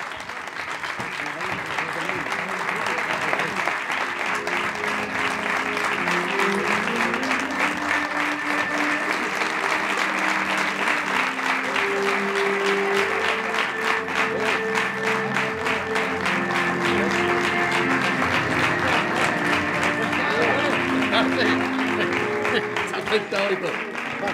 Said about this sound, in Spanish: pongámonos en pie y démosles un fuerte aplauso